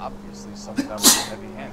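A sneeze from a character in the video game L.A. Noire bursts out once, short and sharp, over a steady game hum while someone talks before and around it.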